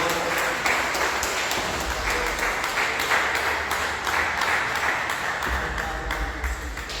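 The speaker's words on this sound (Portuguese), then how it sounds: "dê uma salva de palmas bem alegre para Jesus, o Senhor" A church congregation breaks into sustained, lively applause for Jesus during a service, a dense steady wash of many hands clapping at once, fairly loud and even throughout with no voices rising above it.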